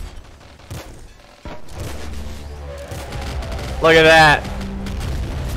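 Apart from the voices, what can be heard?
weapon shots in the video game Nuclear Throne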